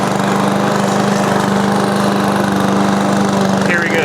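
Amazon Smartpower electric lawn mower pushed by hand through very thick, overgrown grass, giving a loud, steady motor hum and whirring blade drone that continues unbroken throughout.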